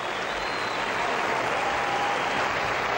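A crowd in an Olympic ice-skating arena applauds Torvill and Dean's ice dance, a dense, loud, continuous wash of clapping that holds steady throughout.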